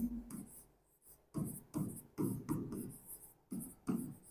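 Chalk or marker scratching across a classroom board during a geography lesson on India's northern mountains, in short repeated strokes with brief pauses, heard close alongside a teacher's voice.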